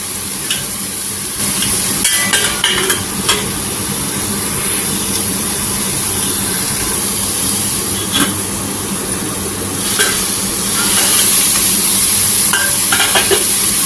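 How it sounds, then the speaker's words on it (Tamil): Brinjal sautéing in oil with turmeric, a loud, dense sizzle running throughout, punctuated by occasional stirring knocks and scrapes in the pan, with no speech. "இது இந்த எண்ணெயெல்லாம் ஊற்றி இருக்கிறதுல கத்திரிக்காய் ஒரே 1 நிமிஷம் வதங்கட்டும்."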